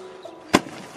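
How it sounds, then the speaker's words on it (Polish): A juice box bursts open with a single sudden sharp pop, close and loud against a quiet background. "Widziałeś jak wybuch ten sok?"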